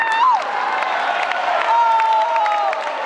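An audience at a live show claps and cheers, a loud, steady wash of applause with a couple of high whoops rising above it, and a voice speaking over the crowd noise.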